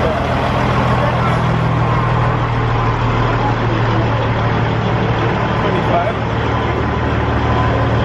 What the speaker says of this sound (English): Another semi coming through.